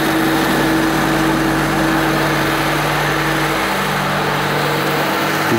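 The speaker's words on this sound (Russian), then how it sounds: "Сейчас машина работает." A Lada Niva Legend engine idles close by, a constant low hum with a higher whine running alone throughout.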